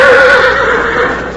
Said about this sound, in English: A herd of wild horses blazing their way across the plains of the west.